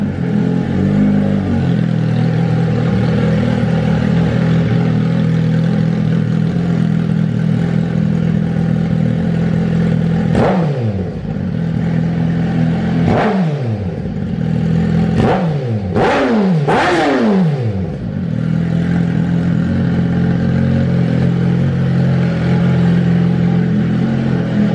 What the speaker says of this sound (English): let's start the bike and hear what it sounds like